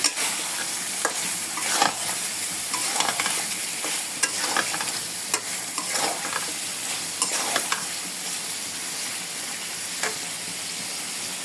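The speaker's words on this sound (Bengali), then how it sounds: "এখন নাড়াছাড়া করে নিয়ে কিছুক্ষণ ভেজে পরিবেশন করবো" Chicken kosha with carrot, lemon juice and ground cumin stirred and fried in a pan: a constant loud sizzle with repeated scraping strokes of a spatula, close and uninterrupted by speech.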